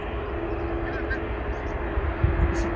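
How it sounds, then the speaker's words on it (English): A commercial airplane flies over RAF Fairford, a steady roaring engine drone that swells slightly toward the end, heard outdoors beneath people talking. "A commercial airplane."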